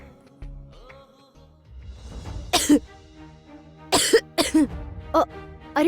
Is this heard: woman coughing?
yes